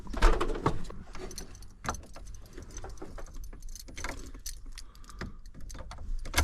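Keys jangling in a mechanic's hands beside a Ford F-150 pickup, a burst of metallic rattles first, then scattered small clinks and taps.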